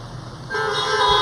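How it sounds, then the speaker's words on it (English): Car horns sound at a high school graduation ceremony held outdoors, several honks swelling together into a loud sustained blare halfway through, from cars parked nearby. "Give me a honk if you can hear me."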